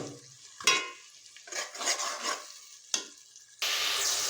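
Tomatoes frying in a pot for vegetable pulao, with bursts of stirring scrapes and sizzling at intervals, ending in a steady, louder sizzle nearby.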